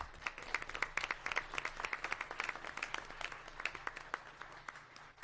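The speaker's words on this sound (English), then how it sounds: "Let's give him a round of applause." An audience at a regular meeting breaks into steady applause, a soft patter of many hands clapping together at a distance, fairly faint, with no voices over it.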